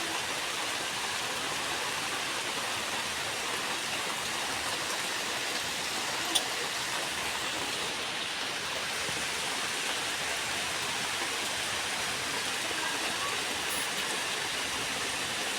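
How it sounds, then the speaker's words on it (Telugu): Steady rain falls in a continuous even hiss of dense drops, fairly loud and unbroken throughout, with no voices. "ఒక అక్కడి నుంచి వర్షం కూడా వస్తుందండి"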